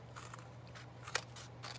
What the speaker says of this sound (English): I need to position my scissors so I can see the line.